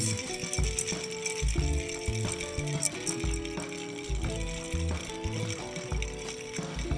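A teardrop spoon stirs a gin and off-dry vermouth cocktail over ice in a bar, giving a continuous rattling clink of ice against the glass with no talk over it.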